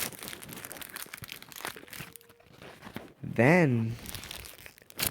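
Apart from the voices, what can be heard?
ripping a cardboard box to pieces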